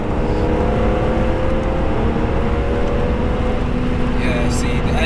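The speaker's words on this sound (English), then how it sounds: "You can feel the power getting stronger as you start revving" A naturally aspirated BMW E46 M3 engine revving hard under acceleration, a steady loud in-cabin drone with a faint whine climbing slowly, while people talk inside the car.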